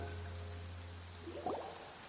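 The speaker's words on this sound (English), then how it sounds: "It's been raining non-stop for a few days now." Steady rainfall in the Fontaine region of the game Genshin Impact, a soft, continuous patter of drops with a low ambient hum underneath and a brief brighter splash or rustle near the end.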